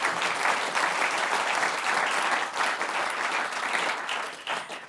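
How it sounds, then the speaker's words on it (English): A conference audience applauds steadily for a panel on monetary policy, a dense wash of clapping that holds for several seconds and tapers slightly toward the end. "please give a big round of applause to my wonderful panelists"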